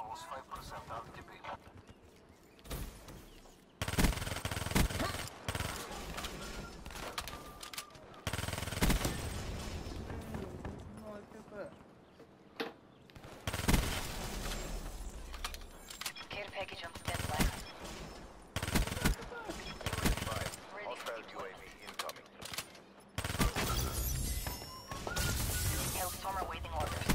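Video game gunfire: dense, repeated bursts of automatic and single shots, loud and close, nearly continuous over a cluttered mix of game sounds and voices talking.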